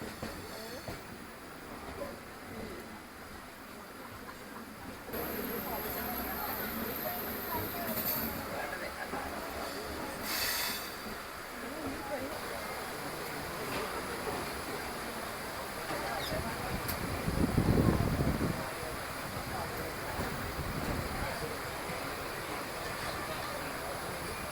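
A Venad Express passenger train running between Shoranur and Ernakulam, heard from inside the carriage: a steady broadband rumble of wheels and coach noise, with brief swells and one louder surge, continuous throughout.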